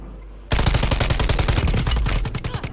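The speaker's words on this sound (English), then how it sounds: "I'm getting sniped from out, like far outside." Sniper gunfire in the video game Warzone 3 breaks out suddenly after a quiet start into a loud, rapid barrage of shots that continues densely to the end.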